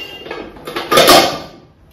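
Metal pots and a cast iron lid are handled, giving a brief clatter of knocks and a ringing metallic clank, close and fairly loud.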